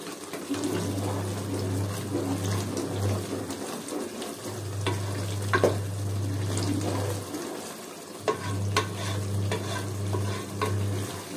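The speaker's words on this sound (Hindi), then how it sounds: "थोड़ी देर ऐसे भूनेंगे सालन को।" Curry salan with coriander and mint is fried in a pan for vegetable pulao, giving a steady close sizzle broken by scraping stirs and a few sharp clinks, with a low hum coming and going underneath.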